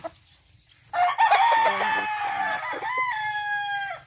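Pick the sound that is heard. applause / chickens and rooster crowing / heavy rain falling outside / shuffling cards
chickens and rooster crowing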